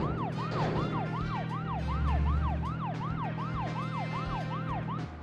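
A police car siren in the Deadly Premonition Origins video game wails in a fast, steady up-and-down yelp over a continuous engine drone as the car climbs a hill, loud and close, cutting off near the end.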